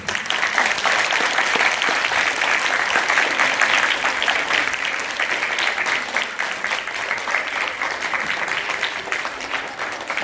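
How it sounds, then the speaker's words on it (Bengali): Audience clapping for an artist on stage at a live event, dense sustained applause from a crowd, loud and even for the whole stretch. "একবার ওনার জন্য জোরে করতালি হোক।"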